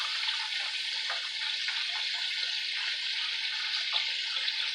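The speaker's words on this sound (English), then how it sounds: "we're going to pour in a little bit of water mixed with salt." Salted water poured into a pot of broccoli on the stove, a steady bright splashing stream running close and unbroken throughout.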